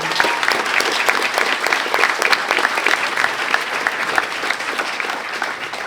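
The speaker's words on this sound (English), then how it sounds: "Please join me in a round of applause for them." Graduation audience giving a round of applause for school staff, dense continuous clapping from a large crowd, fairly close and steady for the full length with no speech over it.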